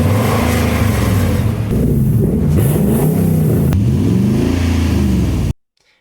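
A Nissan Armada/Titan with a Magnaflow catback exhaust revs hard, a loud close rumble climbing and dropping in repeated sweeps before cutting off abruptly.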